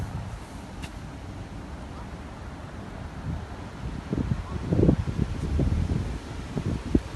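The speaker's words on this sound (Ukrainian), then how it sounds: "Ой, вітер, не знаю, чи буде щось чути" Wind blows across the microphone in a low rumble beside a lake in autumn, growing into stronger gusts toward the end.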